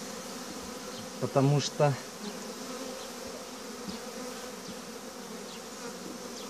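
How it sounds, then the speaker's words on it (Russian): Honeybees hum around an opened hive as they come out during a spring inspection, a steady close buzz throughout, with someone speaking briefly over it. "Вот выходит пчелка. Пчелка выходит."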